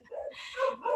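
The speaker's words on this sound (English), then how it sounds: "Deldy, I have someone at my door now too, so my dogs are going crazy." Several dogs bark and yip at someone at the door, a short, close burst of excited barks.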